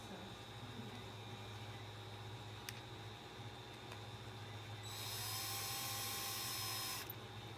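A screw is started by hand in a motorcycle grip mount, giving a few faint ticks and then a steady high whirring drone toward the end against a quiet background.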